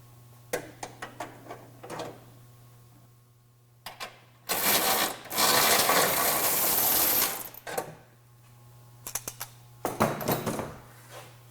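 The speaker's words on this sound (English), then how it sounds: "we're going to remove the remaining nut and stud plate from the back side of the bumper here that's securing it up" Metallic clicks and clinks while a nut and stud plate come off the back side of a 2015 Ford F-150 front bumper, with two louder bursts of handling noise in the middle and a steady low hum throughout.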